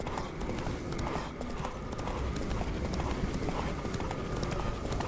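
Roach, a horse in The Witcher 3 video game, gallops in a rapid, steady clip-clop of hooves that keeps going throughout, loud and close over a dense rumble of game ambience.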